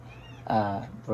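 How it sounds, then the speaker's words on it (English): A pet cat meows once, drawn-out and fairly close, in a home where someone is working on a paper flower art project. A quieter sound comes just before the meow and another sound starts right at the end. "You can hear my cat in the background."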